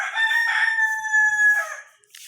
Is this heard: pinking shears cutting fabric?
no